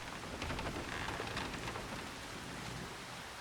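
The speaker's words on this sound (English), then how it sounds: "I have to wait just a little bit until the rain wears off" Steady, soft rain patters continuously on a surface, with no voices.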